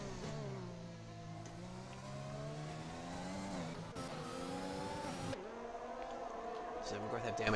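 A Red Bull race car spinning in an F1 video game at Bahrain, with a steady engine whine, a pitch dip and tire scrub in the middle, under ongoing commentary.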